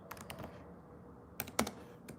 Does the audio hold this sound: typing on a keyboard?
yes